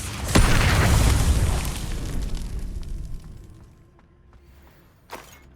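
Confringo explosion spell from the video game Hogwarts Legacy, a loud blast that erupts suddenly and rumbles out over several seconds, then a brief sharp burst near the end.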